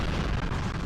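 Explosions in the video game Resident Evil 3 Nemesis form a loud, dense, rumbling blast that fills the whole moment without a break.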